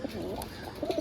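Kaldoma pigeons, a pair, give soft low coos in short bursts near the start and again toward the end, close and quiet.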